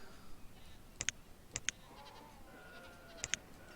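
Sheep bleat softly in a farming stretch of the video game Banished, several short calls at a distance over a faint background hum.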